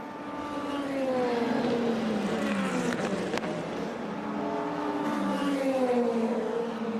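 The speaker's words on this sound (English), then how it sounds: "This is the Valkyrie closing in on the Peugeot." Aston Martin Valkyrie and Peugeot prototype race cars at Le Mans, one closing on the other, their engines a loud continuous high-pitched wail with shifting tone as they pass, slightly swelling near the middle.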